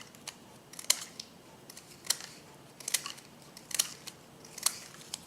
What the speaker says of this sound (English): Just cut them up into little strips.